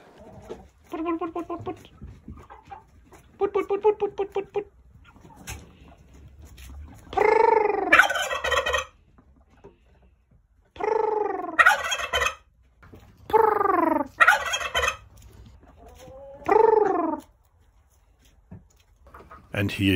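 Several bursts of gobbling from a male turkey, rapid warbling calls repeated every few seconds between quieter stretches, fairly close and clear.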